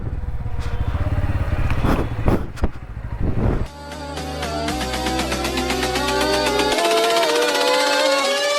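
A Bajaj Pulsar N160 motorcycle ridden near a high school, with clattering bursts giving way to a loud engine whose pitch climbs steadily as it accelerates.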